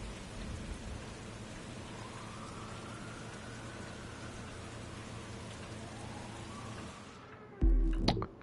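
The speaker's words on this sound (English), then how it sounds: "And it's now raining." Steady rain pours in The Crew 2 racing game, a continuous even hiss of falling drops with faint rumbling for most of the stretch, then cut short by a brief louder burst near the end.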